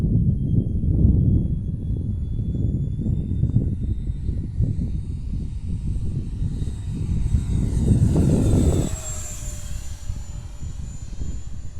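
An F-86 jet aircraft flying at about 70% throttle, a loud, steady roar that builds as it passes close by, then drops to a thinner whine as it moves off into the distance.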